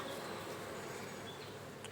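A steady, low buzzing of honey bees around a hive, like a swarm, continues faintly and evenly throughout with no voices.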